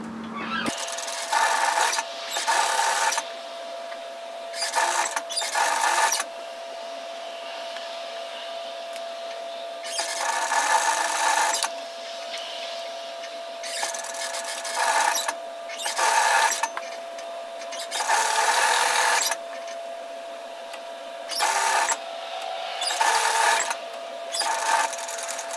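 Sewing machine stitching a flutter sleeve top, a series of buzzing bursts of several seconds each, separated by short pauses while the fabric is lifted, turned and pivoted.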